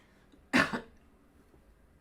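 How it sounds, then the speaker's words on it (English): A single sharp cough in a quiet room, a quick double burst followed by silence. "I just got a cough."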